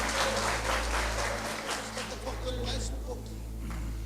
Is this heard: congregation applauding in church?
yes